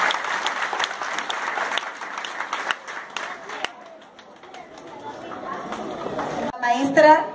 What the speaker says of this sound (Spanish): Fuerte el aplauso para nuestra maestra.